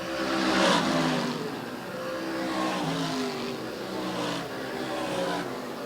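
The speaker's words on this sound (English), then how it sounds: "Bertiome's car drifts up to the wall off the 4th turn" Race cars with roaring engines accelerate hard around the track on a short-track racing night, the engine notes rising and falling continuously with loud, steady sound throughout and faint crowd or announcer noise beneath.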